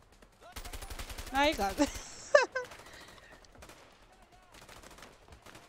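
Rapid machine gun fire rattles in the video game A Way Out in a loud, dense burst lasting more than a second, then sparse shots follow while a voice speaks briefly over the shooting.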